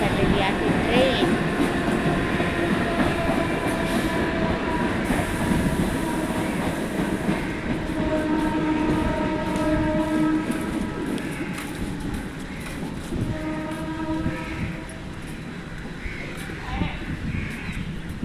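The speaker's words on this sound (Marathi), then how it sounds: "तर हे बघा, चाललेली आहे ट्रेन." A train passes near a lake, its wagons rumbling and clattering steadily, with tonal wheel squeals and hums rising and falling, loud and close throughout.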